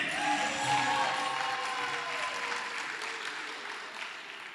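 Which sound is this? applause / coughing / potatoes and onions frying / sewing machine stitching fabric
applause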